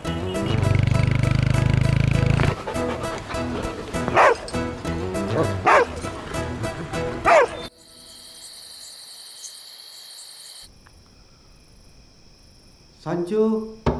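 A dog barks in repeated sharp bursts over the first seven seconds of a Malayalam film scene, fairly close. Quieter ambience with a faint insect chirp follows.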